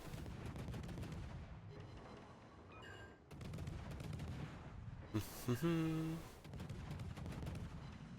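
Naval guns firing high-explosive shells in a warship battle game, heard as repeated booming salvos, one burst louder near the middle, over a steady background din.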